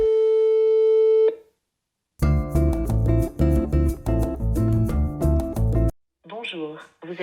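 A telephone call placed on speakerphone opens with a sustained ring tone, then a short silence, then a loud melodic ringback tune, before a voice begins to speak near the end.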